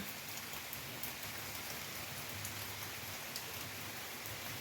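Steady rain falling in a cold place abroad, a dense even hiss of drops on surfaces with scattered brighter patters, continuous throughout with no voices.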